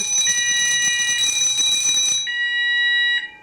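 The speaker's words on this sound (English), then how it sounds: "once you activate it, it will start with the countdown sequence. The bells will go." Loud, continuous electronic fire alarm panel bells ringing steadily, then abruptly dropping to a quieter sustained sounder tone with a couple of brief chirps.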